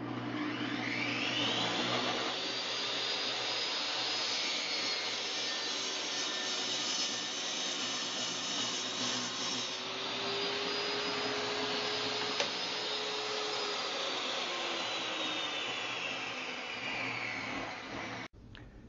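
A power saw cutting wooden blanks for house numbers in a carpentry shop gives a loud, continuous whine that sags slightly under load and holds steady for nearly twenty seconds.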